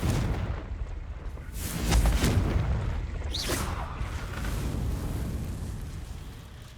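Confringo fire spell blasts in the goblin mines of Hogwarts Legacy, several booming explosions thudding close and loud among rumbling combat noise, with no voices.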